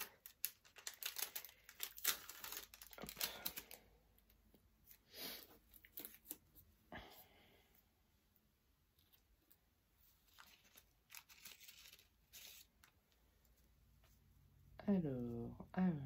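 Crinkling and tearing of paper packaging on an advent calendar as it is carefully opened, in bursts of rustle with quieter pauses, a voice talking in places.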